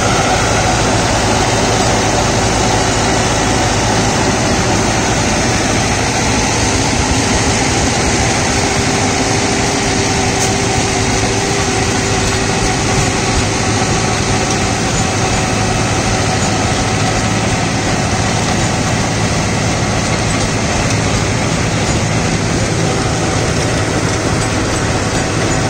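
A New Holland 9010 Excel tractor runs steadily with a GS Rhinocer rotavator mulching banana plants, its engine drone loud and continuous with a constant mechanical whine and no speech.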